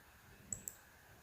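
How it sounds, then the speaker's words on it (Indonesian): Two crisp, quiet computer mouse clicks land close together, a quick double tap opening Microsoft Word, against a near-silent room. "klik kanan 1 kali di mouse pada shortcut atau ikon Microsoft Word. Kemudian, pilih Open."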